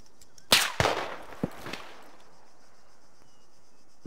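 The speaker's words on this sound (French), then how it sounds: "Je sais pas d'où ça tire, mais... Ça tire de deux côtés." Gunfire in ArmA 3 coming from two directions: a few sharp, loud shots in quick succession, then a couple of fainter distant reports, a quiet stretch, and one more crack at the end.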